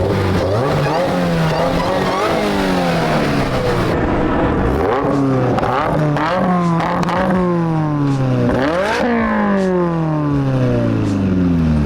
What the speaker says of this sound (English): That's the AWE, guys.